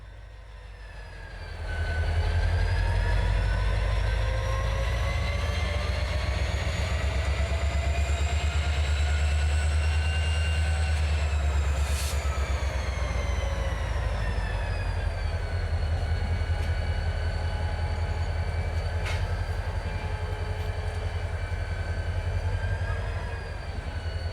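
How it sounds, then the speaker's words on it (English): A holiday train rumbles past steadily for a long stretch, low heavy rolling with a faint whining tone above and the occasional squeal from the tracks. "there was some good train movement here"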